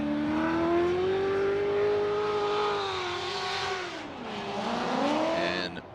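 A drift car at Formula Drift qualifying in Orlando holds a loud, sustained engine howl that dips and climbs again as the revs change, with tire noise underneath and commentary alongside.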